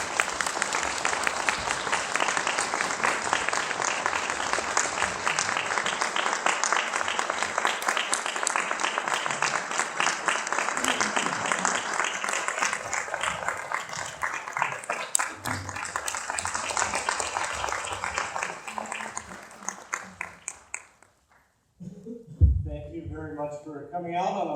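A lecture hall audience gives sustained, dense applause to welcome two speakers, loud and steady for about twenty seconds before fading out. Voices and shuffling follow in the last few seconds.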